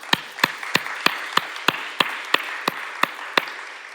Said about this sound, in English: Let us applaud her.